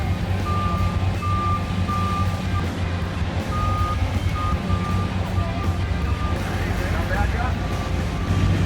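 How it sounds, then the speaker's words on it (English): A truck reverses with a steady, repeating backup beeper over a low engine rumble, then drives off from a tiny cabin, with people talking throughout. "So the truck just unhooked from the cabin and then took off out of here."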